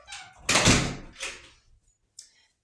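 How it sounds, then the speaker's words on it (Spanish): A house door opening to let a cat in, one loud close thunk followed by a softer knock and a faint brief tap, heard alone without talk. "voy a abrirle la puerta a mi gato."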